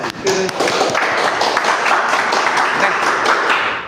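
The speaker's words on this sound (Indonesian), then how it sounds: "Boleh kasih tepuk tangan dulu." A room full of people applauds, a dense steady burst of clapping that holds at a loud, even level for several seconds.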